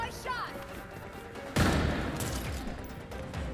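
A single loud gunshot in Gotham Knights, a sharp close crack that rings into a rumbling decay, with quieter game ambience before it.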